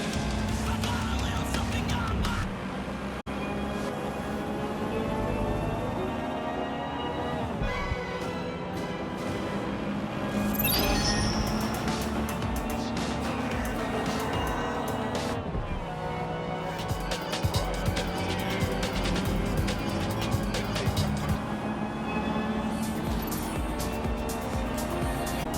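A car cruises on autopilot in Watch Dogs: Legion, its engine holding a steady hum that shifts pitch gently with speed, continuous and close under game ambience, with some speech mixed in.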